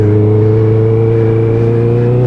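A Honda CBR650R motorcycle engine lugs in a higher gear at low RPM, a loud, steady, close drone with a deep throbbing tone held evenly throughout.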